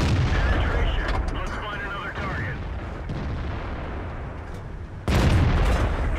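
A tank gun fires in World of Tanks, heavy booming blasts with rumbling low end, one loud shot near the start and another near the end, with a voice talking in between.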